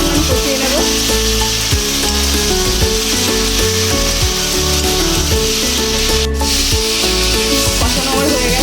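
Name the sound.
potatoes sautéing with masala in a pan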